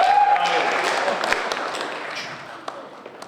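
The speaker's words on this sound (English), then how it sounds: "Can you please keep the round of applause going, even though it stopped?" Audience at a poetry and music evening in a drill hall clapping, a round of applause that starts fairly full and gradually thins out, with a few scattered louder claps near the end.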